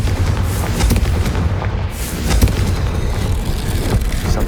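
A Confringo fire spell explodes in Hogwarts Legacy, a loud booming blast followed by rumbling crackle and lingering explosive noise.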